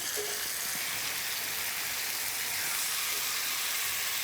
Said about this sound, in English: It's going to go right into the pan with the meat.